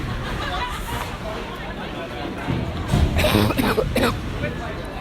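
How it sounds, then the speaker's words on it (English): A few nearby coughs break out over steady crowd noise in a large, echoing ice hockey rink during a bantam game. "I'm trying not to cough into the microphone."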